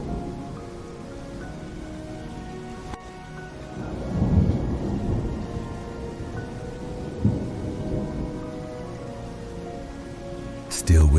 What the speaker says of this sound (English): Seems another storm is whispering out there in the dark somewhere.